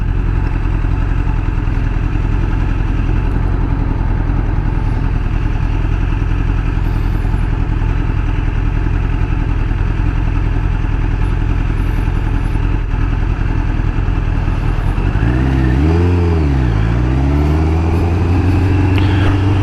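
A 1994 Kawasaki Ninja ZX11 / ZZR 1100 motorcycle engine under way on the road, a loud steady drone throughout with wind noise, and a rising and falling rev swell near the end.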